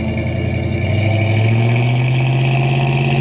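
The original 351 Cleveland V8 of a 1971 Ford Torino 500 rumbles loudly up close, its deep tone swelling as it revs, with no talking over it.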